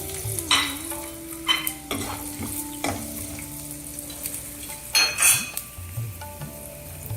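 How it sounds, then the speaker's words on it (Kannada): Chana dal, urad dal, peanuts and dry red chillies frying in a pan, a soft continuous sizzle broken by scraping stirs and occasional metallic clinks of the spoon against the pan. "ಕಡಲೆಬೇಳೆ, ಉದ್ದಿನಬೇಳೆ, ಕಡಲೆಕಾಯಿ ಬೀಜ, ಒಣಮೆಣಸಿನ್ಕಾಯಿ ಹಾಕಿ ಇದಕ್ಕೆ"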